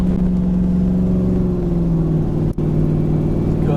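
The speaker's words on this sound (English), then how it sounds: "but this exhaust sounds awesome." A truck on 37-inch tires climbs a hill with its exhaust droning low and steady, a close continuous engine rumble with one brief dropout near the end.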